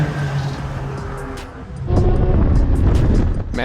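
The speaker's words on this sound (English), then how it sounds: "Man, I really loved listening to this new 992 GT3 howl." A Porsche 992 GT3 runs on the Laguna Seca track, its engine rising to a louder, harsher howl about halfway through, with wind buffeting the microphone throughout.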